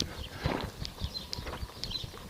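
A trotter horse stepping slowly during a pivot on the forehand, with irregular soft hoof thuds and clip-clops on the ground, fairly near and moderately quiet.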